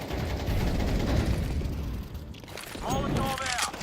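A flashbang grenade goes off in Counter-Strike 2, a loud burst of gunfire-like noise over a few seconds, followed by a fading ring, with a player's voice heard over the game audio.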